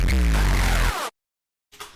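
A dense electronic sample sweeps downward in pitch, then cuts off abruptly into silence before a faint tail returns.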